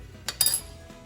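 A whisk knocks against a pot while stirring tomato paste, giving two quick metallic clinks close by, followed by a faint scrape.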